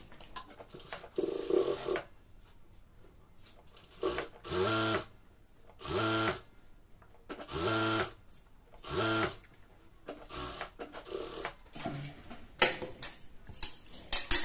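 A sewing machine stitching a salwar seam runs in five short, even bursts of about a second each, with quiet pauses between them and some light handling clicks near the end.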